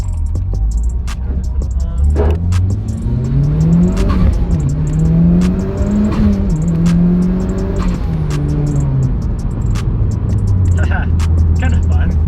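A turbocharged Mitsubishi Evo running 22 PSI of boost accelerates hard from inside the car, its engine droning and rising and falling steadily under loud cabin noise, with scattered clicks and people talking over it.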